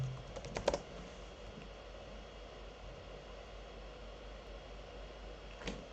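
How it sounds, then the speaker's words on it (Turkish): A command typed on a computer keyboard: a short quick cluster of key clicks near the start, faint and close, then a low steady hum with one more click near the end. "Burada bir Flutter Doctor yazayım."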